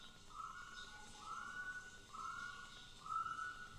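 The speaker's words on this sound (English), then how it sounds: "I hear the turtle doves" A turtle dove calling in a slow, repeated pattern of four soft, tonal phrases at even intervals, faint and somewhat distant over a hissy background.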